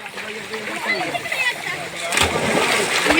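A child jumping into a swimming pool at a birthday gathering, water splashing and sloshing close by with a burst of spray near the end, while people talk and call out around the pool.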